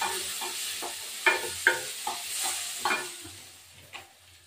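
Potatoes fry in hot oil with turmeric, a steady sizzle broken by several sharp scraping stirs of a spatula against the pan, close up and with no voices.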